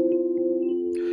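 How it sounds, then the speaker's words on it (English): A warm electric piano holds one sustained mellow chord, smooth and steady. It is close with a soft fade, and no one talks over it. "So usually I kind of have an EP that's sort of always on."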